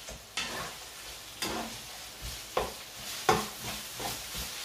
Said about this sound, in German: den können wir schon mal erstmal anbraten, hier direkt mit Öl